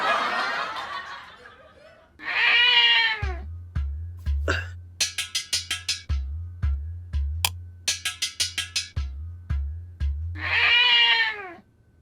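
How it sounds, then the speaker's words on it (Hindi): A cat cries out in long, loud meows, one at the start, one soon after and another at the end, while quick rhythmic thumps and clicks fill the space between the cries. "अरे ये तो बिल्ली है।"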